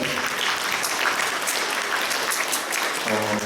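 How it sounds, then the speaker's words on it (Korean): Sunday-service congregation at a Presbyterian church applauding, a full, even round of clapping that holds steady throughout, with a faint voice or tone rising near the end. "박수 한번 하실까요?"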